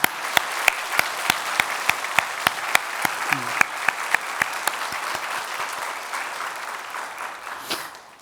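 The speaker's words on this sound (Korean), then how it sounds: "우리 박수로 환영하겠습니다" A church congregation at a Sunday service claps to welcome missionaries, a steady round of applause with sharp individual claps standing out near the front, sustained for about eight seconds before tapering.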